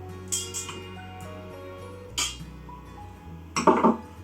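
Butter, 175 grams, dropped into a bowl with a few clinks and knocks of kitchenware, soft taps early then a louder clattering bump near the end, close by with a low background hum.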